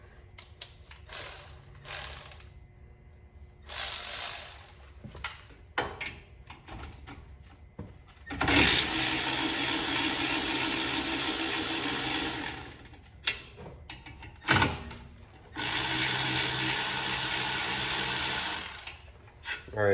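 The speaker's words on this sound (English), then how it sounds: "we can go to our ratchet, and we can grab our 13 millimeter socket" Ratchet fitted with a 13 mm socket working on front brake bolts of an Audi, giving bursts of rapid mechanical clicking and whirring alternating with shorter clanks and pauses, close and loud.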